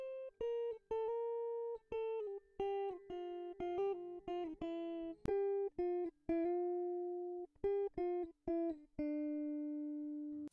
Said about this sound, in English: I just messed around with the guitar strings and I came up with these melodies